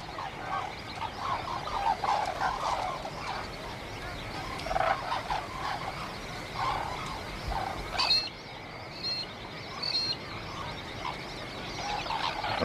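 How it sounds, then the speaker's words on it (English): Brolgas calling in the park, producing repeated loud, raucous trumpeting and croaking cries over a continuous chorus of other birds and insects, with a brief louder burst partway through. "Brolgas are the largest birds of the park and are most famous for their dancing displays."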